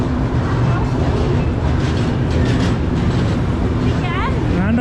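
A train at a railway station in Agra, India, fills the scene with a loud, constant rumble and rushing roar, while people talk underneath the din.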